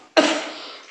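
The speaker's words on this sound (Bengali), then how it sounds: "খুব কাশি হচ্ছে" A single harsh cough from a woman who is unwell, close and loud, with a sharp onset and a breathy tail fading over under a second.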